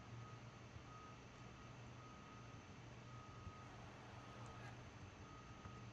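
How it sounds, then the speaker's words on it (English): A dirt-moving truck reversing outside gives a steady, faint, far-off beeping. It sits under constant indoor hum and broadband noise with no talking. "I have the beeping reverse sound effect"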